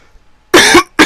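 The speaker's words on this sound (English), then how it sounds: "I really need to get this cough seen to" Two sharp, loud coughs from one person close to the microphone, the first longer and the second a short follow-up, with near silence before them.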